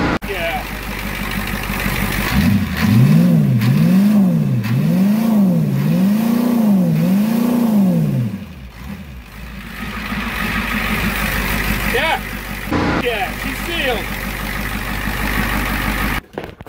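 A Ford 7.3 IDI diesel truck engine on a ramp truck, fitted with repaired exhaust manifolds and injector return lines, revs up and down in a steady rhythmic series of pulls, then settles into a loud, close, rattly idle.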